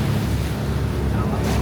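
Rough sea water and wind roar around a boat during island hopping off Guimaras, a steady broadband wash with low rumble throughout, loud and close, with faint voices mixed in.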